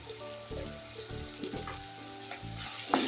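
Masala of turmeric, garam masala and red chili powder fries in a pan, with close, steady sizzling and stirring scrapes in short bursts, and no one talks.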